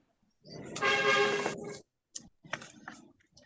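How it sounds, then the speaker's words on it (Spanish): A single sustained horn honk sounds for about a second, followed by a few brief clicks and rustles. "Ahí escuché una bocina que no fue de por acá."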